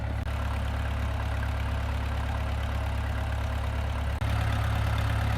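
A farm tractor engine idles steadily at the barn while hitched to a trailer loading old manure, a loud, even low-pitched drone with a brief dip before the rumble continues slightly heavier.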